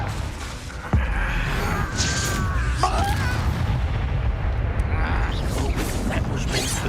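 A Confringo blasting spell bursts with a sharp boom near the start of a Hogwarts Legacy duel, followed by rumbling impacts, crackles and a steady roar of combat noise with faint voices mixed in.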